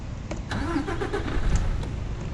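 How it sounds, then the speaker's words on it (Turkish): A truck engine starts in Euro Truck Simulator 2, cranking briefly and then settling into a steady mid-pitched idle. It is loud and continuous, with no talking. "Aracımızı tekrardan çalıştıralım"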